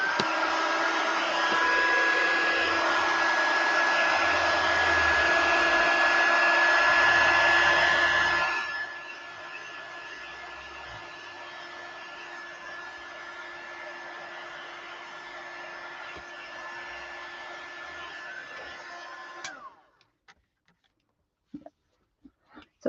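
A handheld heat tool blows loudly while drying a freshly stamped image on paper, then drops to a quieter steady whir for about ten more seconds before switching off, followed by a few light clicks.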